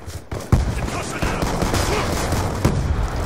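A Vector K10 submachine gun with an extended magazine fires in Call of Duty: Black Ops 2 on the Nuketown 2025 map, a dense rapid-fire stream of shots running continuously with a few sharper cracks standing out.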